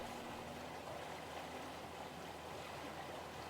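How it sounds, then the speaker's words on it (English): Faint, steady wash of water with a distant low engine drone suggesting jet skis in the background, a quiet continuous ambience with no talking. "Sounds like water and jet skis"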